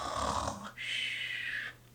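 A voice imitates snoring while reading the children's picture book Bear Snores On aloud: two drawn-out nasal snore sounds, a rough inhale followed by a longer rasping exhale, close and fairly soft.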